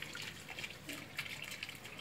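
Water trickling in a small homemade garden fountain with a little dam, a faint, fluttering splash with soft irregular drips and no talk.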